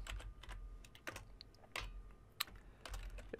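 Keys clatter on a computer keyboard as a folder name is typed, in short irregular bursts of close, crisp clicks with brief pauses between.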